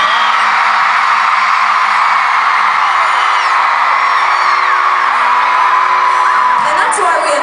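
A concert crowd at a show at Valley View Casino Center in San Diego, California whoops, screams and cheers in a loud, sustained roar that fills the whole stretch.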